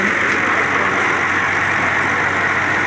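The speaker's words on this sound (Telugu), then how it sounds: "పొలంలో బోరేసి ఇంజిన్ అయితే ఇదే ఫ్రెండ్స్, లారీ ఇంజిన్ ఇది." A lorry engine powering a borewell drilling rig in a farm field drones loud and steady, a continuous low rumble with no breaks throughout.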